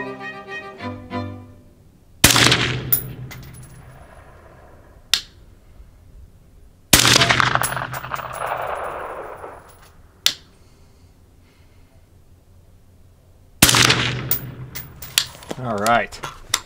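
Rifle shots fired downrange at an outdoor range during testing of an iRay RH25 thermal rifle scope: three sharp, loud reports spaced several seconds apart, each with a ringing decay, and brief talk in between.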